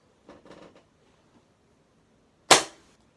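A Striker AS-02 airsoft sniper rifle fires one sharp, loud crack after a few faint mechanical clicks and handling noises, with no voices.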